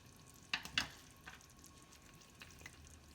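Cheese tortellini sauce sizzling and simmering in a pan, a faint steady frying hiss broken by a few sharp clicks and stirring knocks, with no talk.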